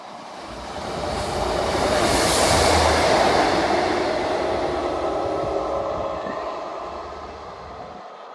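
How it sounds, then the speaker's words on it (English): A train rolls into a station platform at Dawlish, swelling from a distant rumble to a broad roar and slowly easing off, heard from the platform with no voices. "this is my trains coming in on the wrong platform"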